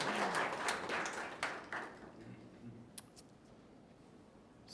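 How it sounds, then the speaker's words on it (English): A conference audience claps at a talk, a burst of applause that fades out over a few seconds, leaving a few scattered claps. "You can applaud me, of course."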